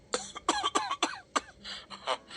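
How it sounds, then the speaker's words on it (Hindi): Someone close by coughs hard and repeatedly in a rapid, ragged fit of about a dozen bursts. "तभी अचानक उसे बहुत तेज खांसी आने लगती है।"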